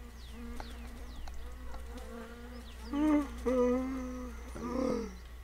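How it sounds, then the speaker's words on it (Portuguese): A mosquito in the My Summer Car game whines in short buzzing swells over a low background hum, growing louder in a couple of close passes. "já tô escutando a porra daquele mosquito safado"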